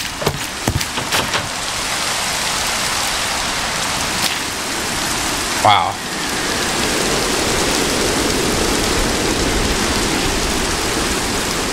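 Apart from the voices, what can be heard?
rain in video game Minecraft (RLCraft modpack) with shaders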